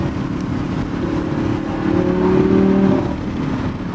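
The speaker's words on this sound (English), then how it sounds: "It's very torquey, that V10." An Audi R8 supercar with a V10 engine pulls hard, its dense, steady engine roar rising and swelling toward the middle before easing slightly, heard close from inside the car with no talking.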